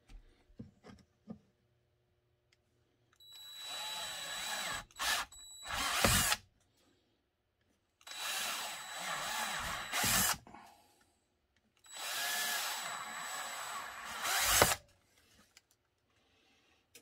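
A power drill whirs in three long bursts of several seconds each, drilling rivet holes, with short pauses and a few clicks and knocks in between.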